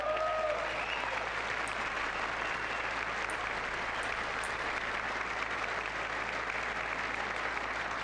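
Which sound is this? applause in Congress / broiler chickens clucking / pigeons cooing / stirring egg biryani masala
applause in Congress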